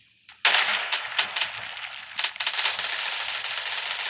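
Loud, close automatic gunfire in the video game Badlanders starts with a single shot, then breaks into rapid bursts with short gaps, followed by a sustained crackling roar.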